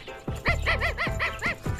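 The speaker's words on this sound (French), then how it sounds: "Allez, Toutou, allez, mon chien." A dog barks and yips in a quick run of about six close, loud barks in an animated-series scene, with a whimpering, whining tone between them.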